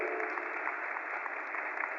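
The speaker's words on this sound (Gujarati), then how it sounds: "તો એ આખી ટીમને ખૂબ તાળીઓથી આપણે બધા વધાવી દઈએ" Steady applause from an audience at a live Vaishnav Pushtimarg satsang, honouring a team, a continuous even patter of clapping held at moderate level with no voices over it.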